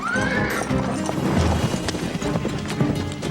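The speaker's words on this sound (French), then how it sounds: "Grimpez sur les chevaux et allez-vous-en!" Horses whinnying loudly near by, with a rising neigh at the start, followed by steady clip-clop of hooves and movement throughout; a voice is faintly present underneath.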